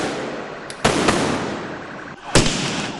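Firework rockets go off during a street protest clash with police, a few sharp loud bangs with crackling bursts over a noisy outdoor crowd background.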